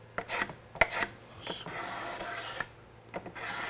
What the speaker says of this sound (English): pass or two with a scraper.